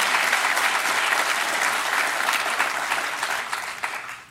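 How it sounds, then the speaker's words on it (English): An audience applauds at a State of the State and budget address in Dutchess County, a steady wash of many hands clapping that slowly thins and fades toward the end. "let's give them a round of applause for their great job"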